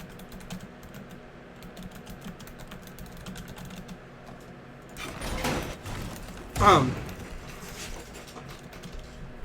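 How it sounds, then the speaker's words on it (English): Keyboard typing during a competitive Rainbow Six Siege bomb round: soft, quiet keystroke clicks in a brief burst, sitting under game ambience, with a louder gunfire-like burst nearby. "that little pause right there was me typing in my chat"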